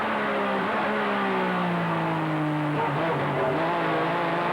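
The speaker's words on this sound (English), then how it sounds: "It certainly pulls out of that corner and away over the crest." A GT race car from the FIA GT 2000 season accelerates out of a corner and over an uphill crest, its engine note climbing steadily and loudly through upshifts, with the occasional drop between gears.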